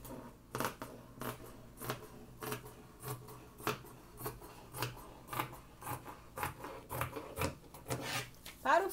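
Scissors cut dress fabric in a steady run of crisp snips and slides, close and distinct, with a few louder strokes near the end.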